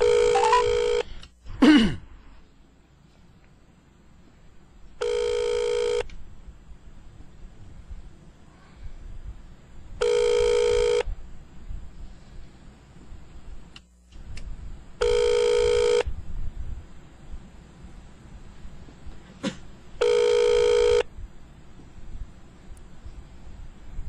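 A home telephone call rings out repeatedly through the earpiece, with five evenly spaced ringback tones about five seconds apart over a quiet background and a brief handling clatter at the start.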